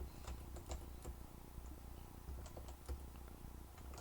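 Rapid clicking of keys on a computer keyboard as a destination is typed in, quiet and close, with no talking.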